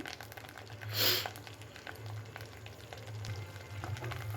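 Mustard seeds and cumin spluttering in hot oil while cooking a liver gravy, a soft continuous sizzle with light crackling pops and one brief louder hiss.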